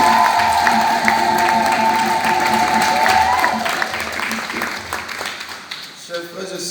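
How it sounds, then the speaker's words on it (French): A church congregation at a parish feast-day Mass applauds, the dense clapping swelling and then thinning out while a voice speaks over it. "Applaudissons pour Jésus."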